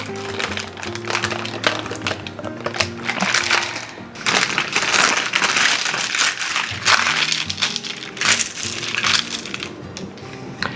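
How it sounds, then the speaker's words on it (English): A knife cuts into freshly baked fruit crumble bars, giving a steady, close crunching and crumbling texture with scraping bursts that continue throughout. "So I'm gonna pull this out and then we're gonna give it a little cut."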